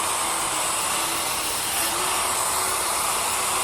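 A hair dryer blows on its hot setting, producing a loud, continuous airy rush that stays even from start to finish, with no voices.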